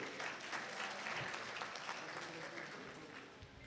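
An audience at an excellence day for a school's former pupils claps steadily throughout, a dense wash of applause heard at a modest distance without any clear voices on top.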